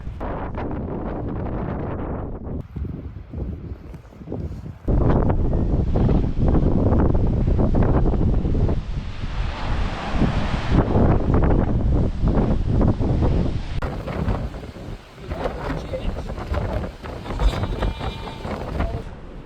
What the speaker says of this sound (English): A bit less windy now, we've got some shelter